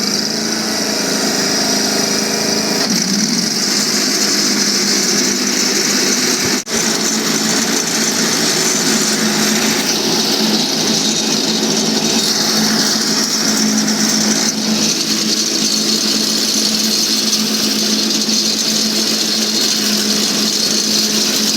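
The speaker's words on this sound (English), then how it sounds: "I'm going to start it, going to mow a little bit" A John Deere 318 lawn tractor mows with a 46-inch deck fitted with MegMo blades, its engine droning steadily and loudly throughout with a whining blade hum and one brief click partway through.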